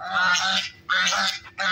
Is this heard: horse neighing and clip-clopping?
no